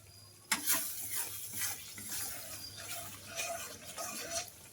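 Spice masala with kasuri methi is stirred and sautéed for a kachu kofta curry, giving a soft, close sizzle and scraping stirs at low volume.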